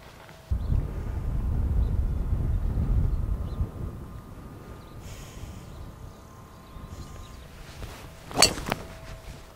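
Steady gusting wind rushing across an open golf course on a par-five back-nine hole, low rumbling buffeting on the microphone for most of the stretch, with a brief sharp knock near the end.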